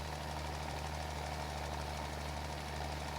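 A tractor engine in the farming video game Farming Simulator 22 drones steadily and low, with a constant rumbling hum and no talk.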